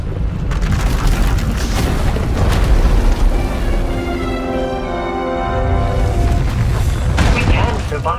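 A runaway power eruption in a Star Wars video game explodes and destroys an asylum: a loud, sustained roaring rumble with heavy booms that swells and fades over several seconds.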